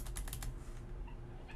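Rapid keystrokes on a computer keyboard, a quick run of close clicks at first that thins into a few scattered taps, faint and alone with no voices.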